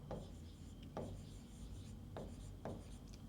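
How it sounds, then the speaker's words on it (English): Handwriting by someone working through a past exam paper, with a few short pen strokes and scratches spaced apart over quiet background, faint and close. "let me write that."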